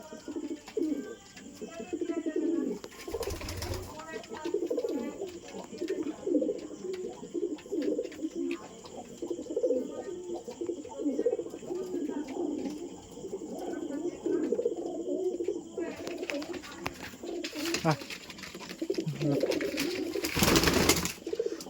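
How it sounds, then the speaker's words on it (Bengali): Wing-clipped pigeons at a sale in Haldia coo steadily in low throaty rolls, many birds overlapping close by, while someone talks over them and a few brief knocks sound. "সবই ডানা কাটা পায়রা।"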